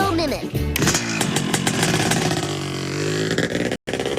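A Moto Mimic toy among vintage signs and toys in a garage, playing motorcycle engine sounds: a loud, buzzing rev with rising and falling pitch, cut off by a brief dropout near the end.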